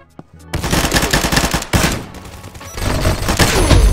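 Rapid automatic gunfire from hip-fire in the shooter game Combat Master, loud close bursts of rattling shots with a brief pause midway before firing resumes, no talking.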